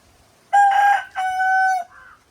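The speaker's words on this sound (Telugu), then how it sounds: "మా కోళ్ళు అరుస్తున్నాయి." A rooster crows up close in a farm garden, one loud drawn-out call broken into two held segments and a short trailing note, with quiet background otherwise.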